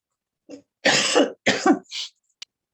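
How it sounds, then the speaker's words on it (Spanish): A short burst of harsh chronic coughing, several rough hacks in quick succession followed by a small throat-clearing catch, close and fairly loud. "porque tengo una tos crónica"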